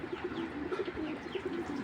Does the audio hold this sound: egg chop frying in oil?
no